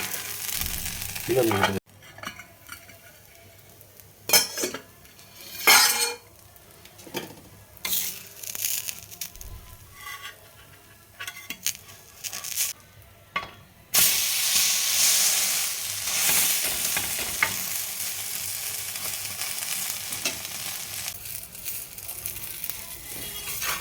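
Jowar uttapam frying in a pan with a little oil drizzled around it, giving a steady close sizzle with intermittent stirring and scraping noises, growing louder and denser in the later part.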